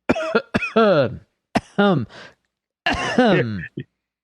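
A man coughs in a few harsh, throaty bursts with pauses between them, close to the microphone in a quiet room, sounding like a bout of coughing and throat clearing.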